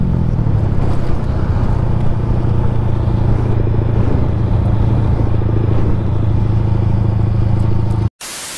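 A modified TVS Apollo RTR 4V motorcycle engine runs steadily nearby, a loud, continuous low rumble with a throbbing beat for about eight seconds before cutting off abruptly.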